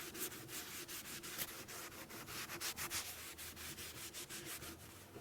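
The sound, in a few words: wiping down dirty cast aluminum part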